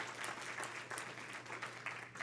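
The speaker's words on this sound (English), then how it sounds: "Yeah, you could applaud that." Congregation in a church sermon setting applauding, a faint, steady patter of many hands clapping at a distance for a couple of seconds, with no voices over it.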